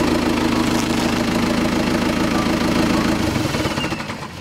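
A tractor engine runs steadily with a slasher attached while clearing pruned branches, giving a loud, rough, knocking drone with constant vibration that eases slightly near the end.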